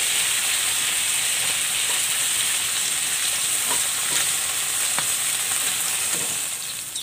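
Pork ribs frying in a pan give a loud, steady sizzle and hiss with scattered pops and crackles, close up and continuous throughout.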